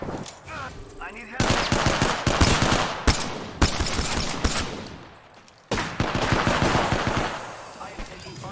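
Video game gunfire rattles in loud machine-gun bursts and sharp single shots, close and dense, with brief pauses between volleys.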